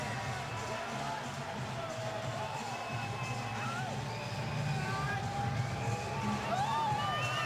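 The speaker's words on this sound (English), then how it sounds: "listen to the crowd for the former heavyweight champion of the world" A crowd at a boxing event cheers and roars for former heavyweight champion Mike Tyson, a broad, sustained wash of noise from a large arena, with someone talking over it throughout.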